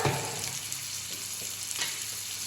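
Curry being stirred in a pan with salt and turmeric added, a short close sizzle with soft scraping strokes of the spoon.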